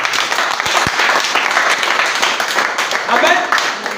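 A church congregation applauding during a sermon, steady dense clapping throughout with voices and cheers mixed in.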